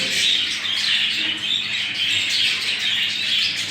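A brood of young budgerigar chicks in a breeder's cage keeps up a dense, continuous high chirping and twittering with no pauses. The sound is steady and fairly loud, close by, and nobody speaks over it.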